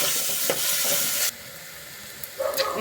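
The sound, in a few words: frying onions with green chillies and curry leaves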